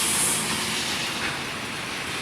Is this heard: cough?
no